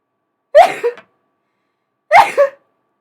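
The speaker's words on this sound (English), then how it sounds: "My once a day sneezing." A person sneezes twice, each a sharp, close burst with a short tail, about one and a half seconds apart, with silence around them.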